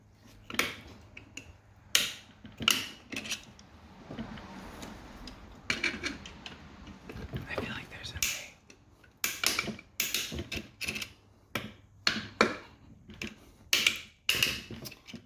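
A screw extractor bit works a stripped screw head loose, giving sparse, irregular clicks and ticks of metal on metal with gritty scraping between them, close up and without speech.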